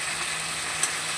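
Chillies and tomato fry in a wok, a steady close sizzle with faint spattering and one brief louder crackle near the end, with no voices.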